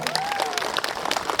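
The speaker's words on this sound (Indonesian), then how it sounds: "Tepuk tangan dulu beliau dulu." Crowd clapping at an outdoor Gerindra party political rally in Fattolo, a dense steady patter of many hands with scattered cheers, loud and continuous throughout.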